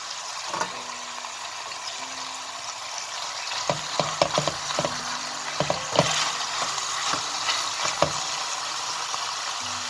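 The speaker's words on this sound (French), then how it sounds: "je vais venir ajouter mes deux oignons, donc oignon blanc et oignon rouge" White and red onions frying with chicken in a pan for a Moroccan chicken dish with olives and preserved lemons, a steady close sizzle broken by several sharp scraping clatters of stirring.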